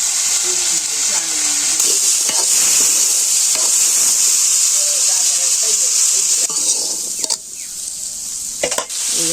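Potatoes with salt frying in a pan over an open fire in a village kitchen, a loud close, continuous hissing sizzle with occasional utensil knocks and scrapes, the hiss dipping briefly near the end; faint talk underneath.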